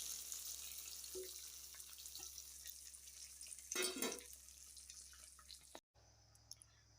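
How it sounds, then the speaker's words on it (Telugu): Hot tempering of dried red chillies and curry leaves poured into nalleru chutney: a brief crackling hiss flares up mid-way over a quiet kitchen background, then settles, with a short pause and light clicks after. "ఇప్పుడు ఈ పోపు చట్నీలో అయితే వేసేస్తున్నాను అండి"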